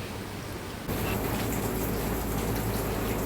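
A dense, steady hiss of heavy rainfall, growing louder after a moment and continuing unbroken, with no voices.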